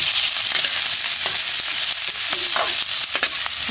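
Garlic and ginger frying in a pan for ginataang langka, with a loud continuous sizzle broken by scraping stirs and a few soft clatters close by.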